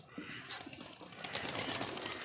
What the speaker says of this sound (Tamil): வாத்து புறா எல்லாம் இருக்கு கூண்டுக்குள்ள.